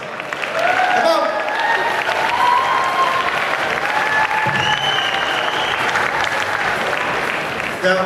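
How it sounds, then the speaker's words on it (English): A crowd claps steadily at a cosplay contest at Supanova Gold Coast 2016. The dense, sustained applause has a few raised voices and cheers mixed in, and a presenter's voice carries over it. "Give a round of applause,"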